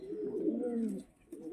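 Pigeons at a nest with eggs give a close, soft, low cooing run for about a second, then a brief pause before another coo starts.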